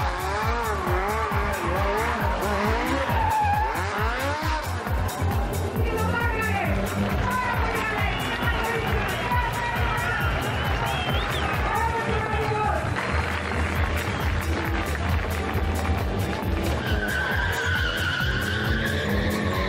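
A car drifts at a Tuning Athens drift show, tires squealing and skidding continuously over a revving engine, loud and close with shifting pitch throughout, while a narrator talks over it.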